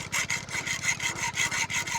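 A hand saw fitted with a new blade cuts steadily through wood on a small farm, making rhythmic back-and-forth rasping strokes, close and fairly loud, with no voices.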